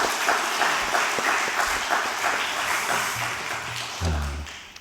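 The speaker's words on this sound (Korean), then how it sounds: "이럴 때 박수 한번 하시는 거예요." A church congregation at an afternoon worship service claps together, a fairly loud, even round of applause that thins out over a few seconds, with a low tone from the sanctuary rising near the end.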